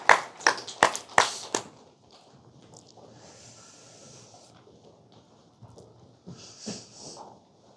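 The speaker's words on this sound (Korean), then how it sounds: "하나님께 영광의 박수 올려드리겠습니다" A church congregation at a worship service gives a short burst of loud, sharp clapping close by that stops after about a second and a half, leaving a quiet room with faint shuffling.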